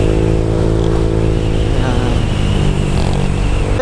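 Honda Click V2 scooter fitted with a JVT exhaust pipe revving steadily, a loud continuous engine drone with held throttle and a slight rise near the end, close by with no talk.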